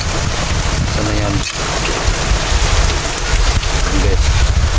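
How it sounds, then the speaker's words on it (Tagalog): Rain falling outdoors during flooding, a steady hiss with wind buffeting the microphone and faint speech in the background. "kahit umuulan"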